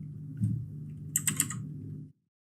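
A quick cluster of soft computer clicks and key taps sounds over a steady low hum, then everything cuts to silence.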